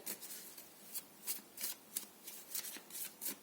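Tarot cards are shuffled by hand in a quiet room, giving a series of soft, crisp riffles and slaps in an irregular rhythm, close and fairly faint.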